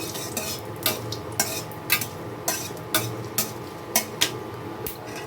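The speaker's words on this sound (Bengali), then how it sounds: "ফোড়নটাকে আমি এক থেকে দু সেকেন্ড একটু ভেজে নেব" Dried red chili and bay leaf tempering fry in a pan under a steady low sizzle, while a spatula scrapes and clacks against the pan in quick, fairly regular strokes close by.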